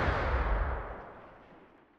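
A grenade explodes on impact inside a war-damaged house during the Balkan war, a single loud blast whose rumbling roar decays over about two seconds, with no voices.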